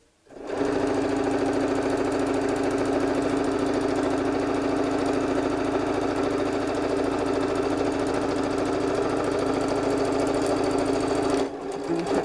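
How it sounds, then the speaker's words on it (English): A sewing machine runs a straight seam through fabric for a Christmas cone advent calendar, a loud steady mechanical hum and rapid stitching drone that starts abruptly and stops near the end. "sewing through the bosal"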